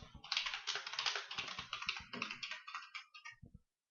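Fast, close keyboard typing with a run of crisp, irregular clicks that thins out and stops near the end, with no voice over it.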